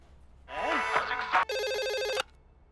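An electronic phone ringtone plays once: a warbling chirpy phrase, then a steady buzzing ring for under a second, close and clear over a quiet background.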